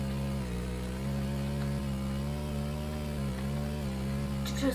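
A scooter engine in the Roblox video game drones with a steady, even hum, holding one pitch with slight wavering throughout and no voices over it.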